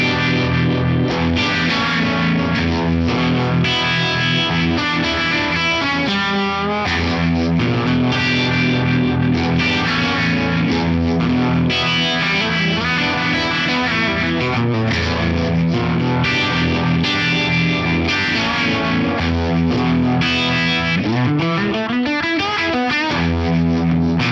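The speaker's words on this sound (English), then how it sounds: "this kind of gives us like a pseudo phaser style effect on here" An electric guitar is played through a ring modulator effect that gives a pseudo phaser modulation, producing loud, distorted, warbling chords and notes with shifting metallic tones and a sweeping pitch bend near the end.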